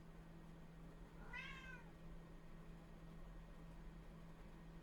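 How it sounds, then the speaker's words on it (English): A house cat lets out a single clear, rising-then-falling meow at fair distance over a steady electrical hum and faint room noise. "And my cat says hello."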